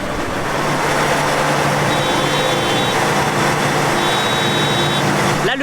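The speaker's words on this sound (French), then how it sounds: "le bip que vous entendez, c'est quand on descend de la machine mais que les organes sont encore en train de tourner" A combine harvester at the first grain harvest sounds two long, steady high warning beeps, signalling that its parts are still turning with no operator aboard, over the loud, continuous roar of the machine's engine and mechanisms.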